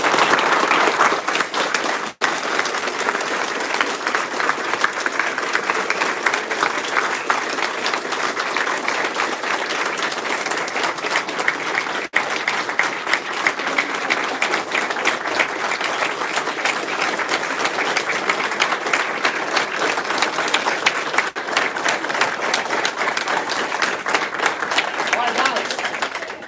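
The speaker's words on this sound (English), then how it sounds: "let's clap it up for them one more time" Sustained applause and clapping from an audience at a martial arts black belt ceremony, steady and dense for the whole stretch, with some speech and crowd murmur mixed in.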